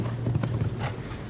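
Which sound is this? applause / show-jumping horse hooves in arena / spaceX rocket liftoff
show-jumping horse hooves in arena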